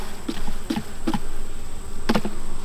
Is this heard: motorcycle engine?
no